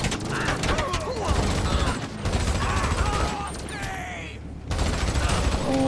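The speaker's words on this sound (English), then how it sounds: "That's some serious power machine guns." Machine gun fire crackles through a dense, chaotic scene in GTA 5, with rapid bursts of gunfire over a constant roar and mechanical clatter, broken by a brief lull near the end before the noise resumes.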